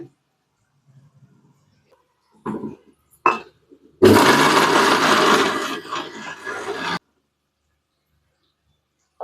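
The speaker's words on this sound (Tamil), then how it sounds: "இதை அரைச்சி எடுத்துக்கலாம் தண்ணி விட்டு" A kitchen mixer grinder whirs loudly as it grinds coconut and small shallots with water for a chicken kulambu, running in a burst of about three seconds after a few brief clunks, then stopping dead.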